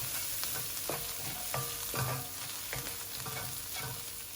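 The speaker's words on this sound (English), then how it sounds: "Once the prawn heads have turned red, we'll add in chopped garlic." Chopped garlic and prawn heads frying in oil in a pot, a steady close sizzle broken by repeated scraping and stirring knocks, with no voices.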